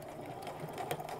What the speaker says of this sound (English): sew my 1/8 inch stitch down the other side here